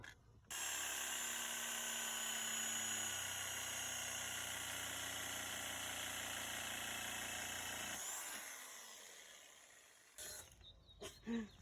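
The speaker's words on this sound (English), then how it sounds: "Working the drill with my foot" A power drill whirs steadily at high speed for several seconds, then winds down, followed by a few clunks and knocks, while working on deck stairs.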